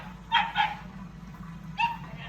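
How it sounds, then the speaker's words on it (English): A dog somewhere in the distance gives three short barks, two close together and then one more, faint over a steady low indoor hum. "Barking dog."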